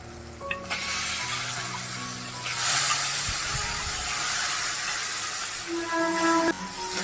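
Broad beans (val) dropped into hot oil for a Maharashtrian val birde gravy give a sudden, steady sizzling hiss that swells and then holds, close and moderately loud, with a brief clatter near the start and no voices.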